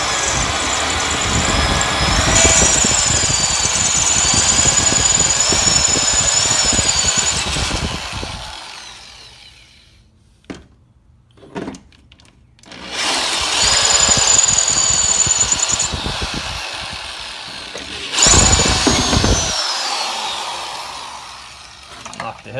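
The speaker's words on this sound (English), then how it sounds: "So you're just taking a drill." A power drill drills out pop rivets on the door of a 1984–89 C4 Corvette, whining loudly in two long runs with short bursts between them, near and dominant.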